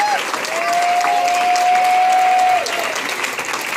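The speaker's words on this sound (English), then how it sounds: "So let's give Angelica a round of applause." An audience applauds loudly and steadily, dense clapping filling the room at a public health event, with a sustained tone over it that eases near the end.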